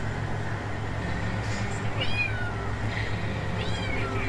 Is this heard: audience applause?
no